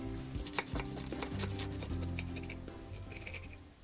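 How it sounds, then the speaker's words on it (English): Knife cutting through a vegan Reuben sandwich on a plate, a run of close, soft crunching and scraping strokes with light clicks, fairly steady over a few seconds with no talking. "I'm going to cut my sandwich."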